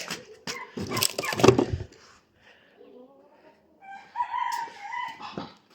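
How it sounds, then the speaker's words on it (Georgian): A rooster crows from some distance, its call rising and falling, after a burst of clatter and movement noises. "მამალი ყივის"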